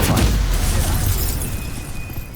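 Spell effects from the video game Hogwarts Legacy, a loud continuous rumbling burst with booming low end that fades slightly over its length, with no speech over it.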